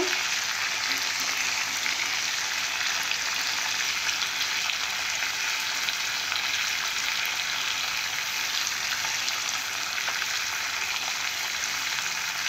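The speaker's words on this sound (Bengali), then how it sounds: "এরপর কাঁচা পেঁয়াজগুলো ছড়িয়ে দেব।" Raw onions frying in a pan, giving a steady, dense sizzle that holds evenly and close throughout with no talk.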